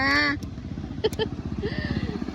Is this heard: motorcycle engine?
yes